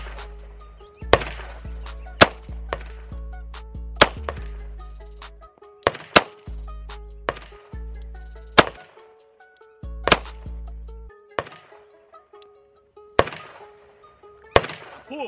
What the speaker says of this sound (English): Now, I'ma just shoot 5 and holster it